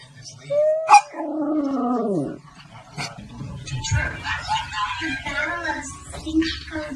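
A dog gives a loud, sharp bark followed by a drawn-out whining yowl, then softer grumbling vocalizations while people talk nearby indoors.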